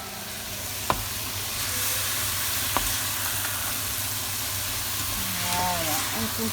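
Leeks sizzling in a pan while a utensil stirs them, a steady close frying hiss with a few sharp scrapes and clicks, and a voice speaking briefly near the end.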